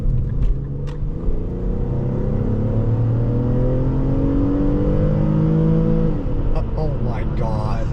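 A 2010 Infiniti M35x engine drones loudly and rises in pitch as it accelerates in sport mode, with steady road rumble throughout and a voice speaking briefly near the end.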